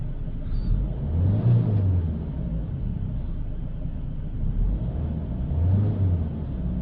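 A Peugeot 3008 2.0 HDi diesel engine, being checked for air mixer and EGR fault codes, idles with a low rumble and rises in two brief revs before settling back, heard close and steady.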